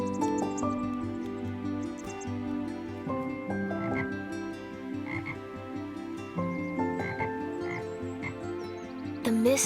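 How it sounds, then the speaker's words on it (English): A bullfrog croaks its morning call beside a misty river, the deep croaks running steadily through the whole stretch over a layer of sustained musical tones. "A bullfrog bellowed his morning croak."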